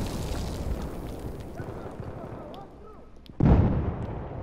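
A heavy bomb blast in Battlefield 4 lands with a sudden deep boom late on, after a stretch of distant rumbling combat noise and whistling effects, while a player speaks.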